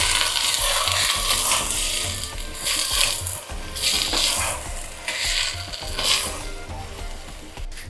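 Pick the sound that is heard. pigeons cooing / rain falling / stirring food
stirring food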